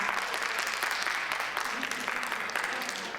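A crowd at a school district centennial celebration applauds steadily throughout, dense clapping from many hands with a few cheers mixed in, fairly loud and continuous.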